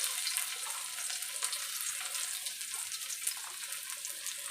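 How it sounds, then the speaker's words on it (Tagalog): Garlic sautéing in hot oil in a pan, an even crackling sizzle with small pops, moderately close and continuous with no voices. "Una nating igisa ay garlic."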